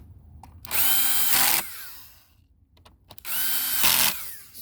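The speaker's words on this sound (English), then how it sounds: "Now this is where we put in the black screws." A power driver runs black screws into an Infiniti QX80 mirror assembly in two loud, close whirring bursts of about a second each, separated by quiet handling.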